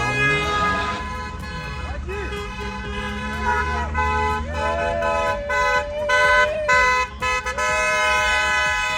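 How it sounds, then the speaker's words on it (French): A car horn sounds, including one long sustained honk, over street noise near a roundabout and nearby voices. "Ok, encore un klaxon."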